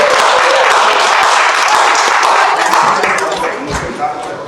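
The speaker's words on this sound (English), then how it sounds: "rub their hands together and give a heavy round of applause for our president" Dense, loud applause from a crowd at a community meeting for a Prime Minister candidate, sustained clapping that fades slightly toward the end.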